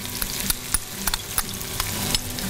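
Onions frying in oil in a greased pan, giving a steady soft sizzle with intermittent sharp clicks and scraping taps from stirring, close and alone without talk.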